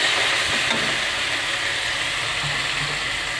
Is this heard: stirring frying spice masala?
yes